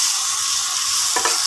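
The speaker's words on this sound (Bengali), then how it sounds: "পেঁয়াজ কালি দিয়ে কাচকি মাছের ভাজা।" Kachki fish frying with kalonji and onion greens in a pan, a steady bright sizzle with a brief stirring scrape near the end, close and alone.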